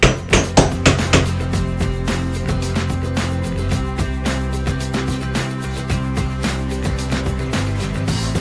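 A hammer drives finish nails into a plywood closet shelf, with a rapid series of loud, close, ringing blows at the start, then steadier repeated strikes continuing throughout.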